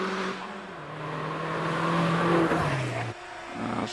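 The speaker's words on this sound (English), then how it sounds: "So these are turbocharged engine, powering the Vauxhall sports car." A turbocharged Vauxhall VX220 Turbo sports car races uphill on a hillclimb course, its engine droning loudly and rising in pitch through the gears, close by and alone.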